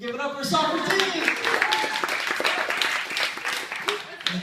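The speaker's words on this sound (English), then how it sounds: "Give it up for Socrates!" A crowd applauding and cheering for a comedian at a university stand-up show, dense clapping that swells after an announcer's shout and carries on under a voice speaking.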